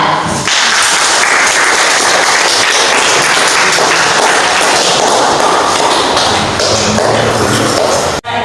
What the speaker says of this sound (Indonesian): Tepuk tangan sekali lagi untuk kelompok 3.